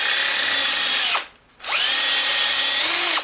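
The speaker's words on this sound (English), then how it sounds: "I drill a hole in it." A power drill bores a hole into a wooden bottle stopper, two close, loud sustained whines separated by a short pause where the motor winds down and then spins back up.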